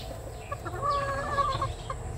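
A pullet chicken gives soft, close clucks and short murmuring calls in a few loose bursts over low background noise.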